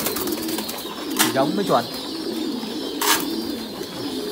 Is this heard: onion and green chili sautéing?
no